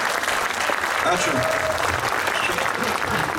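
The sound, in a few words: audience applause at sculpture unveiling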